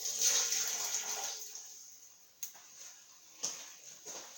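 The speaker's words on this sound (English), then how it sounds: "Then you pour it all out." Hot water poured out of a warmed, empty teapot into a sink, a soft splashing stream that tapers off, followed by a few faint drips and light clinks.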